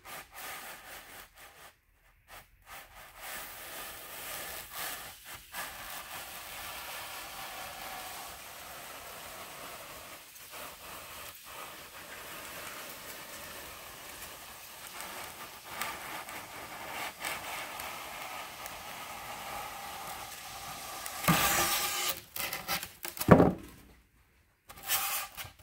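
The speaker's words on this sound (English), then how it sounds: "we will get this hooked up to the battery and we will run our first piece of styrofoam through" Battery-powered hot-wire cutter slicing through a piece of styrofoam: a steady, even hiss and rub holds for about twenty seconds, then a few louder scraping bursts and knocks close the cut. No one talks.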